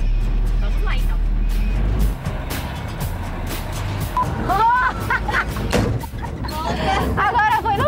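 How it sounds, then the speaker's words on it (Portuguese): A delivery truck drives through city streets, its engine rumbling steadily from inside the cab with passing traffic noise, while people talk over it. "já estamos aqui com a Karine dentro do caminhão"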